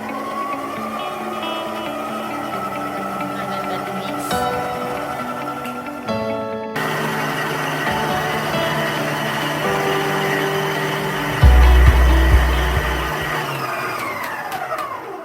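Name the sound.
stand mixer mixing dough on slow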